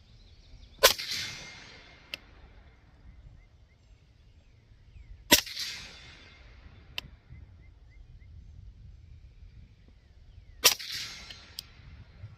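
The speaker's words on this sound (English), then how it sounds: "I'm going to fire 3 rounds at the target downrange." Three sharp gunshots ring out at a shooting range, fired at a target downrange with iron sights, each a loud, close crack followed by a short decaying echo, spaced several seconds apart against a quiet background.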